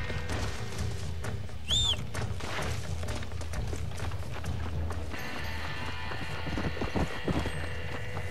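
Horse hooves clip-clop at a steady gallop in the Red Dead Redemption video game, running under dense in-game action, gunfire-like thuds and a brief whinny-like squeal, loud and continuous throughout.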